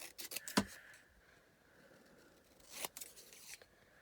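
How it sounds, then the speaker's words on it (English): Long scissors snip through card in a few sharp, close cuts, with a short burst near the start and another around the three-second mark, set against quiet room tone. "Take our long scissors and we'll attempt to Cut it as good as possible."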